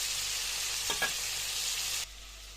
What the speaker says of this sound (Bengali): এখন দেখো আমি চিংড়ি মাছ ভুনা করব, তার জন্য মাছগুলো আগে ভেজে নিচ্ছি।